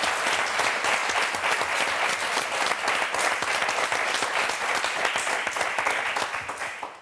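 Studio audience on a French TV game show applauding loudly and steadily for a birthday, a dense close roll of clapping that holds for about seven seconds before tapering off at the end.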